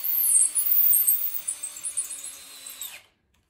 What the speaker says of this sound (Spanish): Lo aprovecho para la fijación con los tornillos autoboscantes.